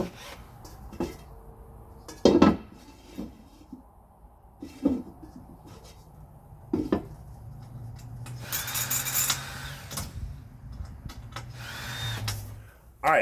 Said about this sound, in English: we're gonna go back with our original drill bit, make a little bit bigger hole